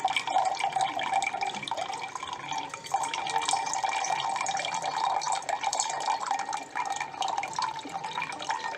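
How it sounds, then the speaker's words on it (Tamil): Water streams steadily from a large water can through a bottle fitting, a continuous trickling splash with fine dripping texture throughout, close and moderately loud with no voices. "உங்களுக்கு கண்டினியூஸாக தண்ணி வந்துகிட்டே இருக்கும்."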